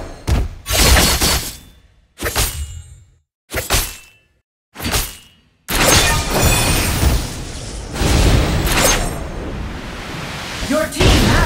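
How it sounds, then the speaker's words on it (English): Turret destruction in the Legend of Ace ranked match: a series of loud, sharp shattering crashes and heavy thuds in quick bursts, followed by a sustained, dense wash of crumbling debris and impact noise, with voice lines over it. "Your team has destroyed a turret."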